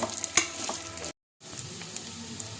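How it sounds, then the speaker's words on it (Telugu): Chicken pieces sizzle and get stirred in a pan with ginger garlic paste, with soft frying crackle and a sharp scrape of a spatula, a brief silent break midway. "ఇప్పుడు చికెన్ వేసేసుకుందాము చికెన్ వేసి కాసేపు అండి ఒకటి లేదా రెండు నిమిషాల పాటు వేయించుకోవాలి"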